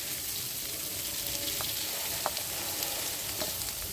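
Banana stem (thor) frying in a hot wok during outdoor cooking, giving a steady, close sizzle with a few soft crackles and pops scattered through it and no talking.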